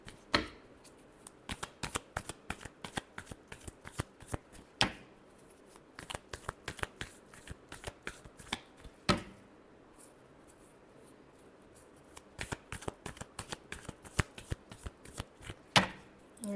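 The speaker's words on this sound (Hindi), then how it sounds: "Last shuffle." Playing cards are shuffled in repeated crisp riffles, each one a quick flurry of sharp snaps with short pauses between. The sound is close and clear, with no speech over it.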